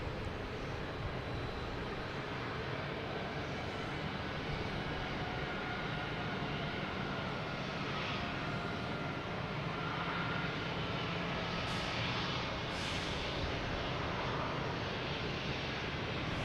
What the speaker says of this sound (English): we have a JetBlue coming in from Bozeman